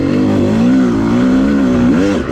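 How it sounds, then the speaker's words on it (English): An off-road dirt bike on a groomed OHV trail bogs down after a missed downshift, its engine note sagging and straining close up for a couple of seconds, with no voices. "the bike just bogs out"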